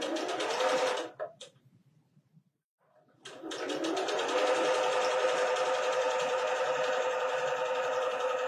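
A sewing machine stitches along the top row of a quilt top, running steadily and close, then pausing for about two seconds before starting again and running on without talk.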